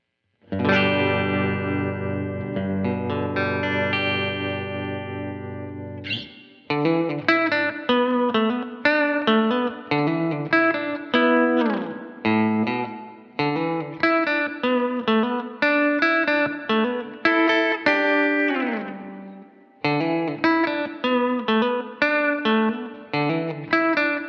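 A partscaster electric guitar plays on its bridge pickup with a clean tone: a long ringing chord first, then a run of plucked single notes and short phrases, each note sharply attacked and decaying, close and alone.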